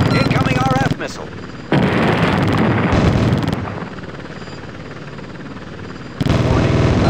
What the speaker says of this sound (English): Enemy ground fire.